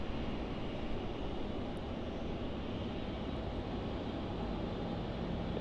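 A Boeing 737 departs from runway 27 at Melbourne Airport as a faint, distant, steady jet roar that holds evenly with no breaks.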